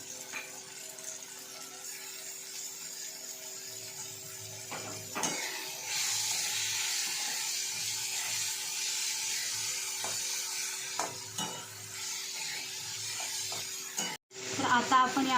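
Ginger, coriander and garlic paste sizzles in a pan with roasted tomatoes while being stirred, a steady soft frying hiss with scraping strokes, ending in a couple of sharp knocks.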